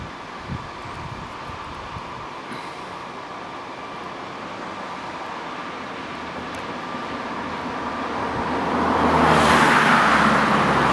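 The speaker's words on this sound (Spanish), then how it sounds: "qué tráfico" Road traffic passing on a Spanish roadway in Porriño, a steady rushing wash of vehicles and wind that swells louder toward the end as something draws closer.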